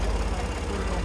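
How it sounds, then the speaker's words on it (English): A Ford tractor engine runs at a steady low idle, with a constant deep rumble and no breaks over about a second. "So we're going to pull it out with this Ford tractor."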